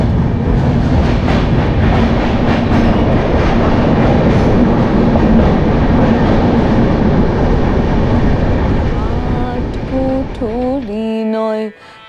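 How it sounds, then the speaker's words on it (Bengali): A train pulls out of Bardhaman station, a loud steady rumble of wheels and carriage noise continuing throughout before fading near the end into tonal mechanical whines. "স্টপেজ টাইম দিয়ে ট্রেন এখন আবার বর্ধমান স্টেশন ছাড়লো।"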